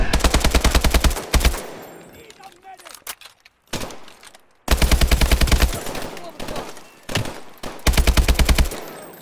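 Rapid bursts of automatic gunfire in Call of Duty: Advanced Warfare, loud and close, coming in several long volleys separated by brief lulls with quieter shots and effects.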